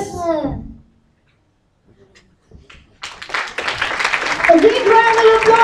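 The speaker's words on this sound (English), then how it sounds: "A big round of applause" Audience applause at a dubbing festival swells in after a short quiet gap, starting as scattered claps and building into a dense, sustained ovation mixed with cheering voices.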